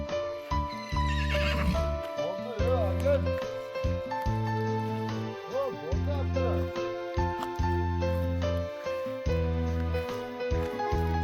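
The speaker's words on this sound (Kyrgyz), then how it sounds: "ушул сиздер көрүп турган таза кыргыз жылкы бир өспүрүм сатууга" Young pure Kyrgyz horse offered for sale at a horse market, whinnying and neighing repeatedly alongside steady clip-clop hoofbeats, with someone talking over it throughout.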